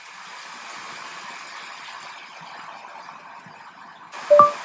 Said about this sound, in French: bruit de la pluie.